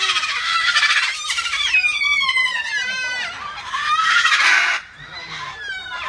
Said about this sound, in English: Salmon-crested cockatoo.